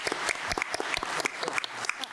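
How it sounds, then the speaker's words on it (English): A conference hall audience applauds a session of speakers, a quiet, steady patter of many hands clapping for a couple of seconds. "you can applaud them once again for the very rich presentation"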